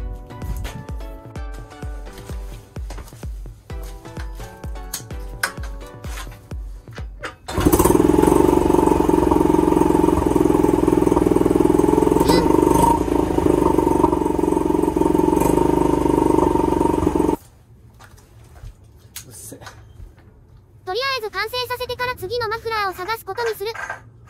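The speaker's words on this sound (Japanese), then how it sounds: "とにかくエンジンかけてみましょう" A Honda Super Cub engine fitted in a nearly fifty-year-old Italian motorcycle starts after several cranks, then idles loudly and steadily for about ten seconds before cutting out; other mechanical noises follow.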